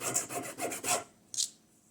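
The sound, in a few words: sanding plastic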